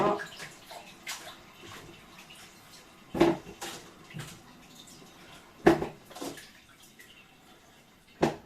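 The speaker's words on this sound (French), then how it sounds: "Je vais les égoutter comme ça." Water splashes and drains from sliced potatoes tipped into a dish in a home kitchen while making gratin dauphinois, with a few louder clatters and sloshes over a soft running-water background.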